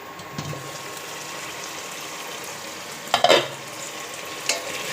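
Roti frying in a pan on a gas stove, a soft continuous sizzle close by, broken by a couple of brief scraping stirs with a spatula, no voices.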